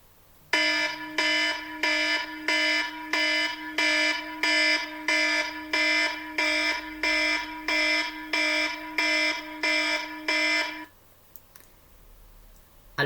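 An alarm clock rings in a steady run of about fourteen loud, evenly spaced electronic beep bursts, close and clear, then stops abruptly and leaves near silence.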